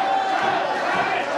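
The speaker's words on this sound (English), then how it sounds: "The crowd chanting for a tap." A wrestling crowd at a Battle Club Pro women's match roars and chants for a submission tap, a dense, loud wash of many voices filling the arena throughout.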